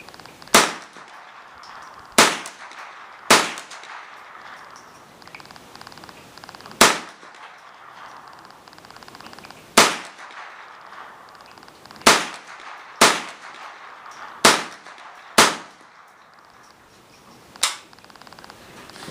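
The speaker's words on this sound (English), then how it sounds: "Shoot a Ruger 1022 rifle." About ten sharp, loud cracks from a Ruger 10/22 rifle fired at a shooting range, spaced unevenly over roughly eighteen seconds, each a crisp report with a short ringing tail.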